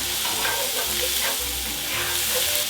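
Garlic sweating in butter in a pan, a continuous dense sizzle with soft stirring underneath, close and even throughout the short stretch.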